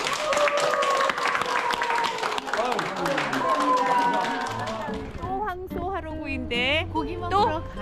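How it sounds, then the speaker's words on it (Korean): A group claps in a rapid patter beneath loud Korean voices that keep talking throughout at a kimchi-sharing volunteer event, and the clapping fades out about halfway. "자, 박수를 크게"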